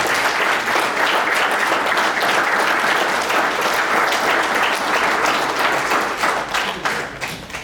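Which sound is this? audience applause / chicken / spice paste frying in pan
audience applause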